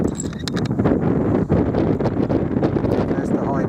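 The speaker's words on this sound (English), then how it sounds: "There's the high wind, which I'm now dialed for." A strong 20+ mph crosswind buffets the microphone at a 400-yard rifle range with a .204 Ruger, giving a loud continuous rumbling roar, while someone speaks briefly under it.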